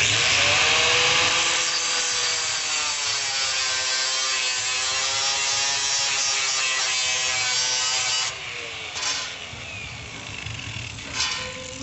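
Power tool cutting a small metal plug for a Blazer body panel, a loud continuous high-pitched whine that steadies, then breaks into short irregular bursts as the cut finishes.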